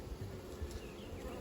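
Honey bees swarm around an open hive during an inspection, a dense, continuous close-up buzz with wingbeats drifting in and out, no voices.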